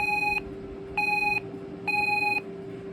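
A Radionics 8112 alarm panel sounds its entry delay warning: three loud electronic beeps, each about half a second long with short gaps between them, over a low background hum.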